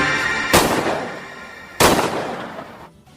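In a film scene, a pistol fires two sharp, loud shots about a second apart. Each report cracks and then fades out, with a low ambient rumble underneath.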